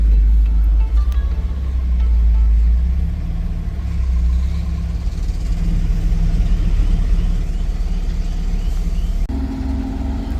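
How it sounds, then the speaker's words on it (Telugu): A car's engine rumbles steadily up close as the vehicle drives down out of a shipping container at a container yard, a loud, continuous low hum with no talk. "కారు కూడా దిగుతుందండి చూడొచ్చు"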